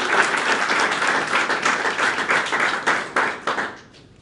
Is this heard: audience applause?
yes